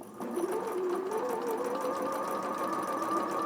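A sewing machine runs steadily, stitching a dart in dressmaking fabric, with a continuous close whirring hum and no pauses and no talk.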